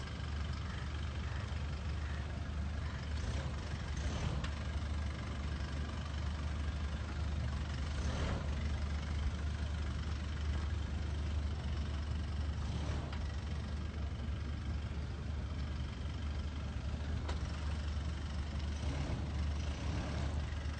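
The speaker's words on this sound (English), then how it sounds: "And see this, the car will be going through the rumblers." A 2016 second-generation Toyota Fortuner rolls off-road over rumble strips, its steady engine and road noise droning continuously with faint periodic thumps as the tyres cross the ridges.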